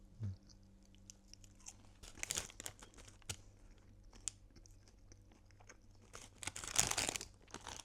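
Burger King chicken nuggets being chewed close up, with soft wet chewing broken by sharper crunches and a louder burst near the end, plus faint crinkling of packaging; no talking.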